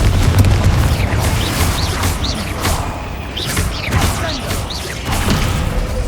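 Repeated fiery blasts from the Confringo spell in the Hogwarts Legacy video game, heavy booming explosions layered over a dense, continuous rumble of combat effects and whooshes, loud and close throughout.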